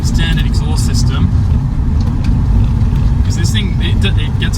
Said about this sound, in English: so I'll put the windows down so you can hear the standard exhaust system